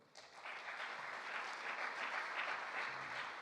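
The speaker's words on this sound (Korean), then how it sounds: "우리 박수 한번 칩시다." A church congregation claps together during a Korean worship service, a dense, even burst of applause rising quickly and holding steady, heard from a distance in a large room.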